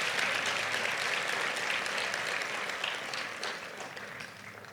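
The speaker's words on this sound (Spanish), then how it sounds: "Amén, pero déle fuerte aplauso." A church congregation gives strong, sustained applause, a dense wash of many hands clapping together that fills the space and fades slightly toward the end, with no speech over it.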